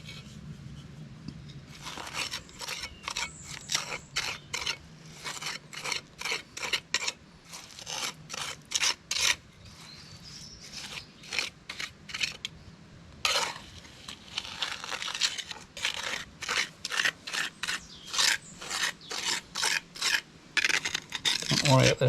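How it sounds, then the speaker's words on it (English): The back of a trowel spreads plaster on a wall in quick, rhythmic scraping strokes, close and fairly quiet, with short pauses between passes. "the best way to do this is actually to use the back of the trowel"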